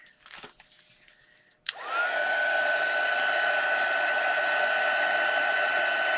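Hair dryer switching on after brief handling noises, then blowing steadily in a constant loud whine and rush of air to dry chalk paint, close up.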